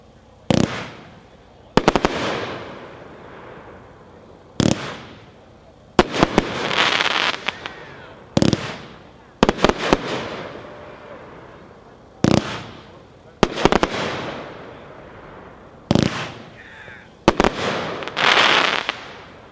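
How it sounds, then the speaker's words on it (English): Firework cake, The Good by Miracle, a 25-shot Old West item, fires a series of sharp launch thumps and crackling bursts in irregular clusters, loud and outdoors across the whole stretch, with no talk over it. "Number 8, The Good from Miracle, 1-3 assortment, Old West, packed 1-3, obviously, 25 shots."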